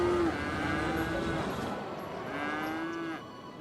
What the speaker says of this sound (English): there's lots of cows, like these rugged hill cows right here.